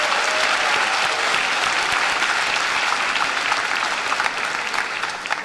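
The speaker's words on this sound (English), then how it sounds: "give them a round of applause for what they're looking for in the future" A high school graduation audience in a large hall gives sustained, thick applause for students entering the military, steady throughout and easing slightly at the end.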